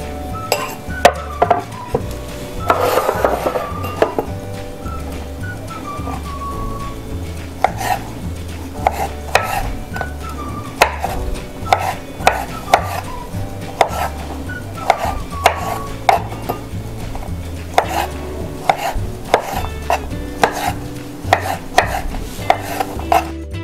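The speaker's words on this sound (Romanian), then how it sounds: "Acum o să tăiem măslinele." Knife chopping olives on a cutting board for a classic tramezzini recipe, a steady run of sharp, close taps repeating through the clip over a low hum, with occasional clinks of utensils.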